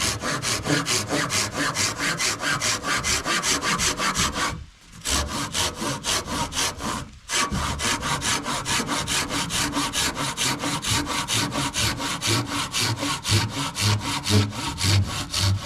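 A dull, well-worn hand saw cuts through wood for the rafters of an off-grid cabin floor, with steady, loud rhythmic strokes running almost continuously and two brief pauses.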